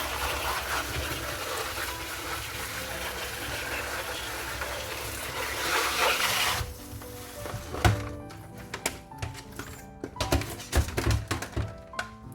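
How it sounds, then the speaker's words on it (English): Plastic seed trays being scrubbed clean with soap and water, a steady wet rushing wash giving way to close, irregular knocks, thunks and clatter of plastic being handled. "washing it with soap and water"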